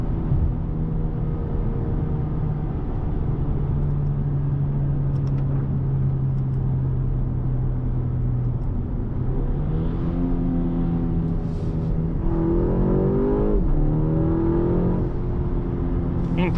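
A 2025 BMW M235 Gran Coupe engine drones loudly inside the cabin, its pitch rising and falling through gear changes with a faint blow-off hiss under the rumble.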